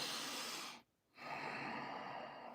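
Two sniffs of a freshly opened pouch of blueberry tobacco, separated by a short silent pause. Both are close and breathy, with no talking.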